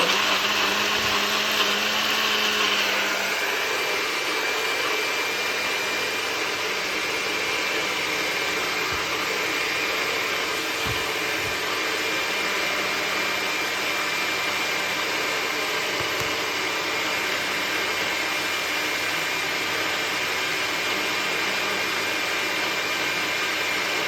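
A countertop blender whirs steadily for the full stretch while blending a fruit smoothie, its motor whine loud and continuous with no voices over it.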